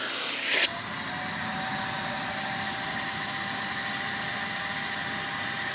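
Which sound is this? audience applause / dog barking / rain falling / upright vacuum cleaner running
upright vacuum cleaner running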